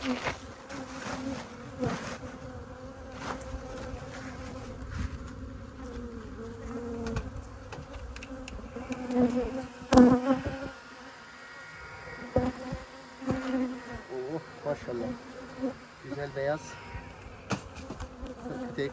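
Honeybees buzz close by at a hive during queen rearing, a dense wavering drone with individual bees passing near, interrupted by occasional knocks and handling clatter.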